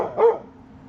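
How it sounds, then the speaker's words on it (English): A guard dog gives a single short, sharp bark at fairly close range, followed by a faint trailing whine and quiet background. "What a good guard dog."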